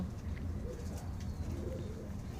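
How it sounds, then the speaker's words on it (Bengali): Pet pigeons coo softly in a loft, low murmuring calls faint against a steady background hiss, with no talking. "এইগুলো আমার অনেক শখের কবুতর।"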